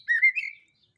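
A white-rumped shama (murai batu) gives a single short, bright whistled phrase lasting about half a second, clear and fairly close, then silence.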